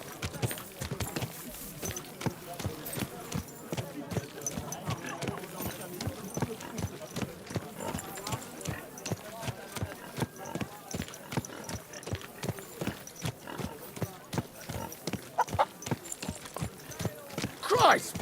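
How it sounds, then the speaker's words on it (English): Horse hooves clip-clop steadily on a town street in the medieval role-playing game Kingdom Come: Deliverance 2, a fast even rhythm of distinct hoofbeats running throughout, with townsfolk voices heard over it. "Watch out with that horse!"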